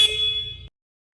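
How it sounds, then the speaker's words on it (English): Forklift horn giving a single short, bright honk of under a second, close and loud, then cutting off to silence. "Another popular one is your forklift horn."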